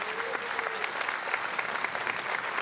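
Crowds of supporters applauding and cheering outside the 21st presidential inauguration of Lee Jae-myung in Korea, a dense continuous roar of clapping, fairly loud and steady, with a faint tone running under it.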